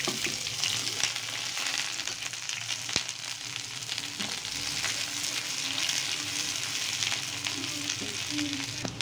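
Onion and garlic frying in hot oil in a wok with dried chillies and bay leaves, giving a steady, loud, continuous sizzle with occasional stirring scrapes throughout, no talking.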